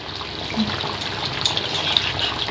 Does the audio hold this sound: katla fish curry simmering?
yes